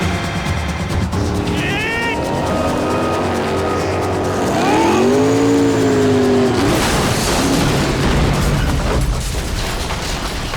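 A car engine in Max Payne 3 revs hard at full throttle, a loud sustained roar with rising and falling pitch, joined by a heavy boom and crashing noise midway through.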